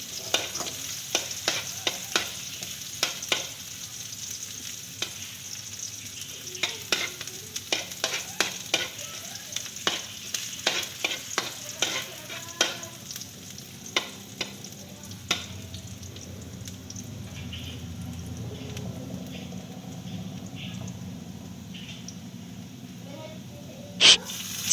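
Garlic sautéing in a pan with onion, a soft steady sizzle under repeated sharp scraping taps of a utensil stirring, quieter toward the end with faint background voices.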